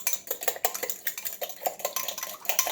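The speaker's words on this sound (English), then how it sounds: "you're going to crack them one at a time and stir them up" Eggs whisked with a utensil in a bowl, making a quick run of close, light clinks and taps against the dish, steady and alone.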